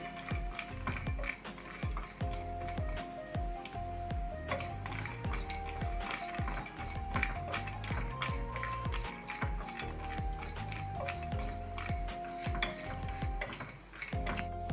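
Sesame seeds, with peanuts, are roasted in a pan, giving off a steady rustle and scrape as a metal spoon stirs them, with frequent clinks and knocks against the pan.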